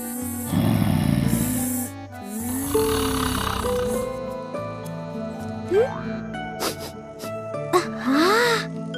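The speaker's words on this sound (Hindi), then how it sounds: "जंगल के राजा शेर महाराज अपनी गुफा के बाहर खर्राटे मारते हुए सो रहे थे" A cartoon lion sleeps outside its cave, giving drawn-out comic snores over busy background music with sliding tones and sound effects.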